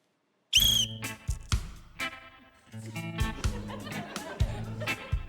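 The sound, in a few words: whistle blown to start a task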